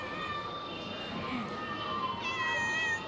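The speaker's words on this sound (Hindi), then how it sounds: "बिल्ली भी आ गई।" A cat meows in a Mumbai home garden, with a couple of drawn-out, tonal calls close by over a soft outdoor background and faint noise.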